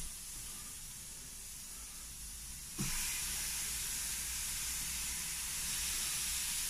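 Pineapple slices laid onto a preheated Weber Q 1200 gas grill, a steady faint background hiss that jumps into a louder, broad sizzle after a sharp contact sound and holds alone to the end.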